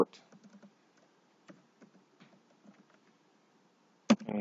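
Scattered keyboard key presses, a few soft taps spread out with pauses, then a louder cluster of clacks near the end.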